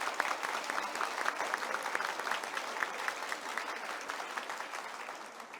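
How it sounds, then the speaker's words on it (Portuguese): A crowd gives a judge a standing ovation at the opening ceremony of a legal sector event in Rio de Janeiro, with sustained, dense applause and rapid overlapping claps that hold steady at moderate distance. "Eu quero também uma salva de palmas de pé"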